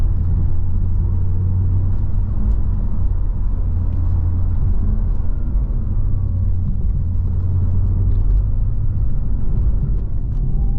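An Audi RS e-Tron GT electric sports car drives steadily along a switchback road with a constant low rumble of tires and cabin noise, loud and close, with no talking.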